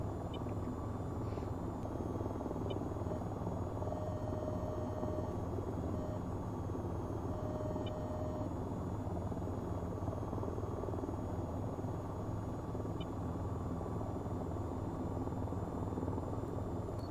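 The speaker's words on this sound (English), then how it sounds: "The helicopter will hover, and we could just rain our weapons down on the enemy." An AH-94 helicopter in VTOL VR hovers with a steady, dense rotor drone that holds level throughout, an even continuous whir with faint tonal whines over it.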